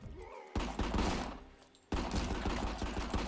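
Dense bursts of gunfire shoot up a room in the video game RICO, two loud rapid volleys close together with a short lull between them.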